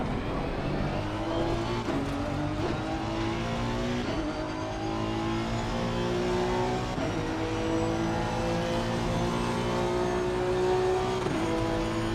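GT3 race cars on track at Paul Ricard in Assetto Corsa Competizione, a steady, loud engine drone rising and falling through gear changes as another car runs alongside and passes close by.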